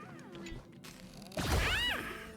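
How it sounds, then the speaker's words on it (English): A cat meows in Honkai: Star Rail, one short rising-and-falling call that follows a thud amid game sounds, moderately near. "There's the last cat."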